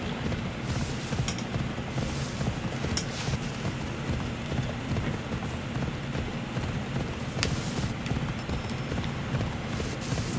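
Horse hooves clip-clop steadily in the game Fields of Elysium, a continuous rhythmic clatter heard close and fairly loud against a low windy background, with no one talking.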